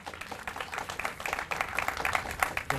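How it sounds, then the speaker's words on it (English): Audience applause at a Monterey County 2020 Census launch event, steady dense clapping from a crowd sustained throughout without speech. "Let's give a round of applause."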